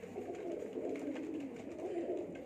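Pigeons cooing on a rooftop, soft repeated throaty coos layered over one another, fairly faint and close, with no talk.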